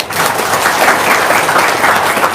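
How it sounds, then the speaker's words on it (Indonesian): An audience claps steadily through a religious talk, the applause dense and even for a couple of seconds with no voices over it. "Tepuk tangan dong."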